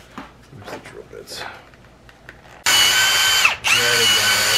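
After some quiet handling noises, a power drill whirs loudly and steadily, briefly dipping in speed before spinning up again.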